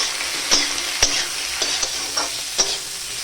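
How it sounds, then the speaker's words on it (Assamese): Spoon stirring curry with potato, salt and turmeric in a pan, several distinct scraping clinks at irregular intervals over a soft constant sizzle, close and fairly loud. "ইয়াতে মই সোৱাদ অনুসৰি নিমখ দিছোঁ আৰু আধা চামুচ হালধি ভালদৰে লৰাই দিম"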